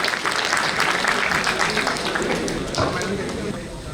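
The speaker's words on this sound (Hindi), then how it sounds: "तालियां।" An audience at an alumni reunion meet breaks into applause, a dense wash of many hands clapping for about four seconds, moderately loud and tapering slightly at the end, with some voices mixed in.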